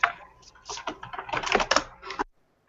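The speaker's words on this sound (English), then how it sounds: "That's what that keyboard clicking is." Computer keyboard keys clatter in a quick irregular burst of typing, close and fairly loud, then stop abruptly into near silence.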